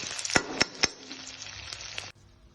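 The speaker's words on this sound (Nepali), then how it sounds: "यसरी प्याज हल्का फ्राई भएपछि त्यसमा म राखिदिएँ लसुन र अदुवाको पेस्ट" Garlic and ginger paste frying with onions for chicken curry, a quiet crackling sizzle with three sharp spoon clinks early on before the sound drops away abruptly.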